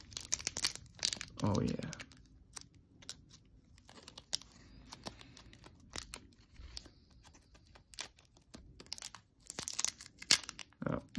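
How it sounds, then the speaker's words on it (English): Crinkling foil wrapper of an unlimited Pokémon base set booster pack being torn open, with sharp, irregular crackles and rustles close by, mixed with brief talk. "That satisfying foil."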